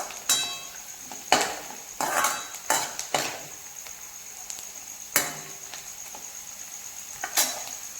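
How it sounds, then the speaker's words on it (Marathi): Onion sautéed over a high gas flame for a chicken manchow soup, with sharp clinks of a spoon against the pan at uneven intervals over a faint steady sizzle, close and fairly quiet. "इथे कांदा आपल्याला फक्त दोन मिनिटच परतवून घ्यायचा आहे आणि ते गॅसचे फ्लेम हाय आहे"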